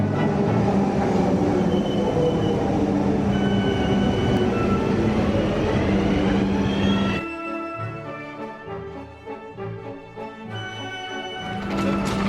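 Steady rumble and hum of a smooth train ride in Vienna, carrying on loud and continuous inside the carriage, then dropping to a quieter, more uneven rolling sound with light clatter.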